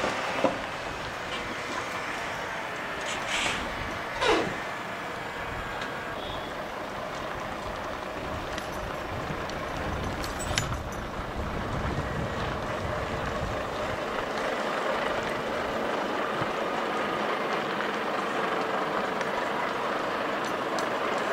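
Heavy truck convoy slowly manoeuvring through a city street while transporting TGV power car 325, a steady low rumble with a few louder swells and brief higher tones, no talking.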